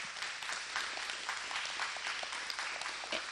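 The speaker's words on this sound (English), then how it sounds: "a great round of applause" Steady applause from a crowd of students at a school event, many hands clapping at once in a continuous, fairly distant patter.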